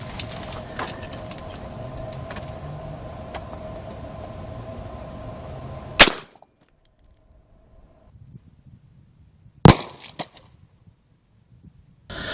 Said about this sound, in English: we're going to shoot it with the 17 HMR